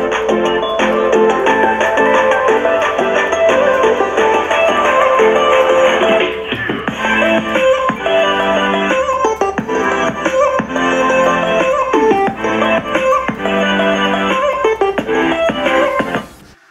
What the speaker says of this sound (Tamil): இந்த ஜெப்ரானிக்ஸ் ஆட்டம் ப்ளூடூத் ஸ்பீக்கரோட குவாலிட்டி எப்படி இருக்குன்றதை நம்ம செக் பண்ணி பார்த்துடலாம்